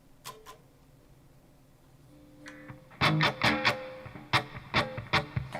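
Sparse electric guitar notes and chords through the green channel of a Revv G120 MK III amp, quiet at first, then louder picked strums with a bright, slightly gritty tone.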